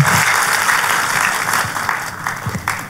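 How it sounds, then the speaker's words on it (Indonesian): A church congregation breaks into sustained applause for Jesus during a sermon, a dense wash of many hands clapping that stays loud throughout and eases slightly toward the end. "Kalau mau tepuk tangannya boleh yang paling meriah buat Yesus Tuhan kita."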